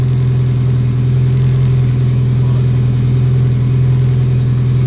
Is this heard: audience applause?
no